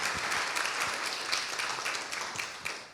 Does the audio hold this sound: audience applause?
yes